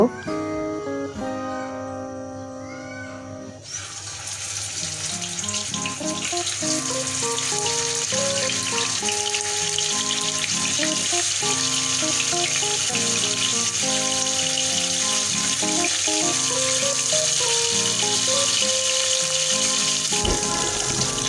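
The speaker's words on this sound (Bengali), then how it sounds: "এটাকে পাশে রেখে আমি মাছগুলোকে আগে ভেজে নিব।" Pieces of rui fish frying in hot oil in a pan for a tomato fish curry, a loud constant crackling sizzle that starts a few seconds in and continues throughout, under background music with no talking.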